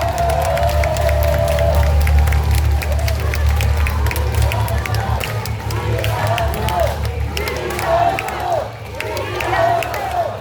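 A crowd at a Democratic Party joint campaign rally in Daejeon claps and cheers loudly, a dense roar of applause with raised voices and shouts, low droning hum underneath, and announcing speech over it.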